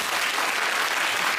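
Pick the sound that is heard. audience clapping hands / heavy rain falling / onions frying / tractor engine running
audience clapping hands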